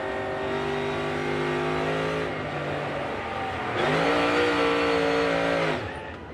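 NASCAR Cup Series race car engine heard onboard, loud and close, holding a steady high drone, dipping briefly, then surging back up as the throttle opens coming off a corner before cutting off.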